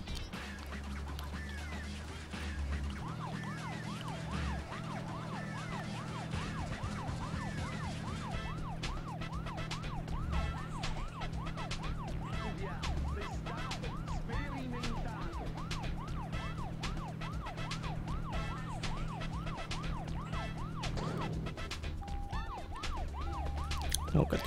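A police car siren wails in the Deadly Premonition video game, a repeating rising-and-falling tone cycling steadily for about twenty seconds over a low engine hum, with no talk.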